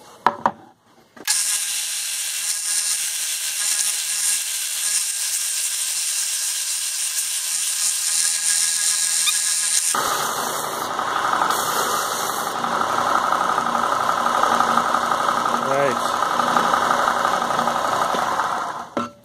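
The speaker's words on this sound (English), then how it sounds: "So now I'm gonna sand draft on these edges." A power sander, run on a tilted table, sands draft angles onto the edges of a wooden foundry pattern for cast aluminum. After a short start it gives a loud, steady mechanical whir, and the grinding tone turns rougher partway through as the wood is worked.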